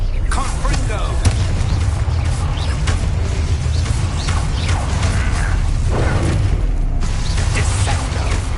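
Repeated Confringo fire-blast spells from Hogwarts Legacy on PS5, dense booming bursts and crackling pops layered over constant game rumble and effects, loud and continuous, with a voice speaking among them.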